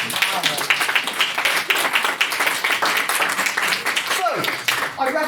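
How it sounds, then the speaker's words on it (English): A debate audience claps steadily in a dense patter of applause, with scattered voices and a whoop near the end. "Give a clap."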